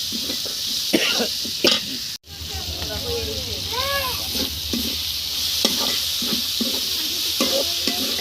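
Shrimp, bean seeds and eggplant stir-fried in a pan for a Bengali vegetable dish, with a steady sizzle under repeated scraping stirs; a short cough sounds and a brief dropout cuts in partway through.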